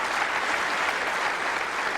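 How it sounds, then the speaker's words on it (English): A snooker crowd at the 1994 UK Championship quarter-final applauds in a steady, dense wash of clapping that stays even throughout, full and close with no talking over it. "the crowd applaud"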